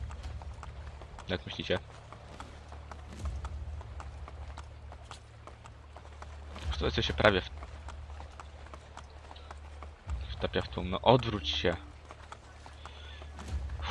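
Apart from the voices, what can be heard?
horse hooves clip-clopping in Assassin's Creed Brotherhood video game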